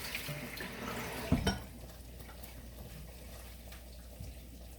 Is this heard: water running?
yes